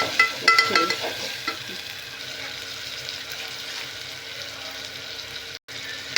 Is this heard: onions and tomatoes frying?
yes